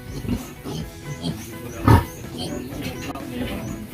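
A large breeding sow on a pig farm gives low grunts, with one louder close snort standing out amid quieter background grunting and farm noise.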